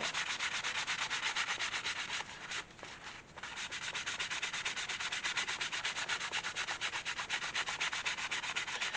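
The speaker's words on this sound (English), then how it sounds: "I take my dry cloth and start buffing the front and the back where I put my sheen" A dry cloth buffs the front and back of a pre-dyed leather card holder after sheen is applied, making a steady, close, rapid rubbing hiss that runs almost throughout, with one brief pause.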